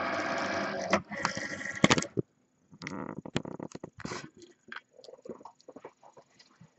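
A Cricut Maker cutting machine feeds in a cutting mat loaded with foil and washi tape, giving a loud mechanical whir and rattle for about two seconds, then quieter intermittent clicks and motor ticks.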